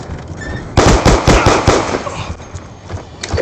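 A loud, close burst of rapid crackling blasts from a dropped bomb in the shooter Black Ops 2, a dense string of pops fading into scattered softer cracks.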